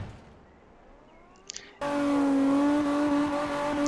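A drift car in CarX Drift Racing starts up after a couple of clicks, then its engine holds a loud, steady high revving drone close by, with no talking.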